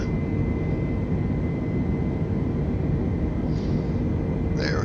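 Airliner jet engines roar steadily after takeoff in Microsoft Flight Simulator 2020 on an Allegiant Air A320-family flight, a constant broadband rumble with a faint whine and a couple of short cockpit chimes near the end.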